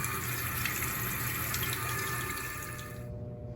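Faint, steady trickle and splash of water running from a waterfall-style faucet into a restaurant bathroom sink, continuous for a few seconds over a low background hum.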